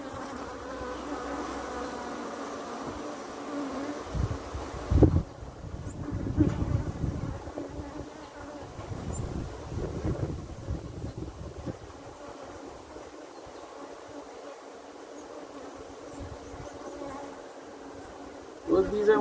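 Honeybees buzzing around brood frames at an open hive, a soft continuous drone with louder swells as bees pass near, plus handling bumps and faint wind noise.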